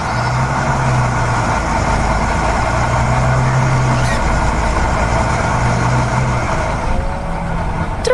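A green cartoon truck hauling big stones on a farm rumbles with a steady, low engine drone, idling evenly at a fairly loud level throughout, with no voices.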